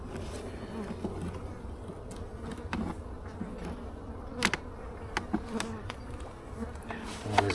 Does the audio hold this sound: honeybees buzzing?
yes